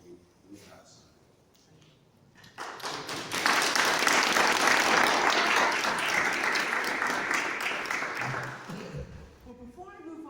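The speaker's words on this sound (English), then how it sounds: "I think we perhaps need another round of applause" Outdoor crowd applauds at a blue plaque unveiling in Birkenhead Park: dense, steady clapping swells after a few seconds of murmured talk and holds loud before tapering near the end.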